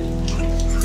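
Rain falling in Goa, a brief steady patter over a low constant hum.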